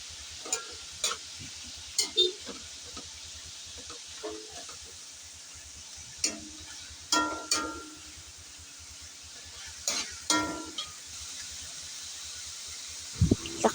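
Pancit malabon noodles are stirred in a wok, with intermittent scraping and clattering strokes over a soft steady sizzle, fairly close and quiet.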